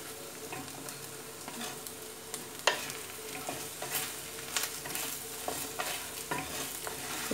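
A spoon stirs lady finger (okra) curry with added spice powders in a hot pan, giving repeated scraping strokes over a soft, steady sizzle, close and without talk.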